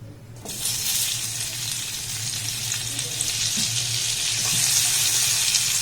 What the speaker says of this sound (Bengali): এর মধ্যে দিয়ে দেবো এক চামচ বাটার